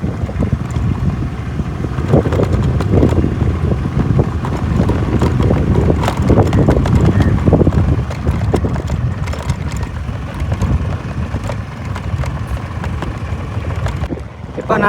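Strong wind buffets the microphone continuously, a loud low roar with rumbling gusts that rise and fall throughout.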